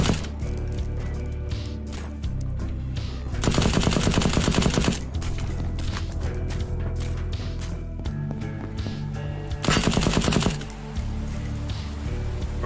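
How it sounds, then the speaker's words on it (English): Dense, loud gunfire fills a video game shooter, with rapid automatic bursts layered over booming shots and a constant rumble of battle. The firing builds into heavier stretches partway through and near the end, and no voices are heard. "Apparently these guys can shoot me through solid objects!"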